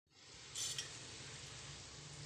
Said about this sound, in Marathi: तर चला असं एक टाकून आपण गरम करून ते तळून घेऊ.